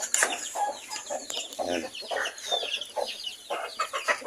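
Chickens cluck busily and continuously on a farm, a close and lively chorus of hens and roosters with a brief spoken word.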